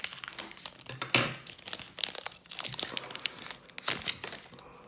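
Foil wrappers of Pokémon card booster packs crinkle and tear as they are ripped open by hand, a close, busy run of crackling rustles and short tearing bursts with no speech.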